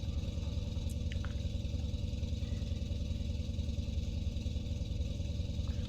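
Antonov An-2 radial piston engine at full throttle during takeoff in Microsoft Flight Simulator 2020, a steady loud droning roar that holds constant throughout with no talk.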